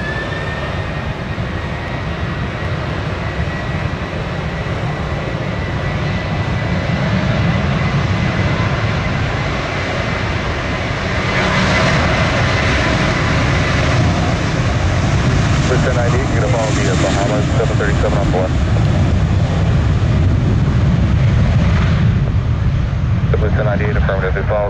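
A Boeing 737 airliner at Orlando International Airport rumbles steadily from start to finish, a continuous broadband roar that swells slightly midway as it passes fairly close, with faint radio-style voices underneath.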